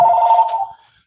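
A telephone rings once in a barbershop, a bright, loud electronic tone holding for under a second before cutting off, heard alone with no talk.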